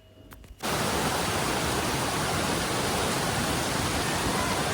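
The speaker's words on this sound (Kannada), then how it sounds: "ಈ ನೀರಿನ ರಭಸದ ಸೌಂಡ್ ಕೇಳಿದ್ರೆ ಗೊತ್ತಾಗ್ತದೆ. ನಾವು ಹೋಗ್ತಿರೋದು ಫಾಲ್ಸ್ಗೆ." Rushing water of Bangara Kusuma waterfall in Uttara Kannada, a loud, constant broadband roar that surges in abruptly after a quiet opening moment and holds steady, close and unbroken.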